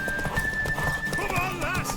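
A horse in The Witcher 3 gallops with rapid clip-clopping hooves, then lets out a wavering neigh near the end, set against a musical score with a held tone.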